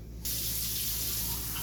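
Tap water suddenly gushes on and pours steadily into a kitchen pot being filled for minute rice, a close, loud, continuous rushing stream.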